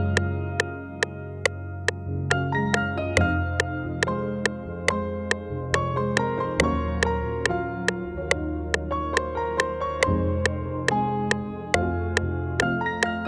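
Bright piano melody doubled in two octaves rings out over a steady beat with bass and drums, notes evenly spaced and sparkling on top, sustained for the whole stretch without any voices.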